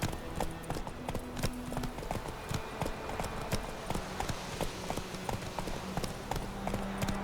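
Hooves of the horse Roach clip-clop at a steady fast rhythm in The Witcher 3 video game, a continuous near drumming set over a low ambient game soundscape.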